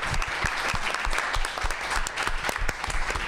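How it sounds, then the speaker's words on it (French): An audience at an Apple Expo 2006 stage event bursts into lively applause for engineering school students, with many close, sharp claps merging into a steady, energetic round lasting a few seconds. "on les applaudit bien fort"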